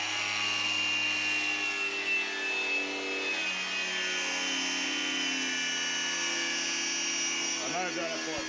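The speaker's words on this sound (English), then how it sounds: "This is the Kmart blower." A Kmart electric blower runs with a steady high whine and a constant airy rush, close and loud, while voices speak over it.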